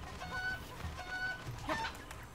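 A Cucco chicken in Zelda: Breath of the Wild clucking and squawking in short, honking calls, moderately close over a steady background hum, with no speech.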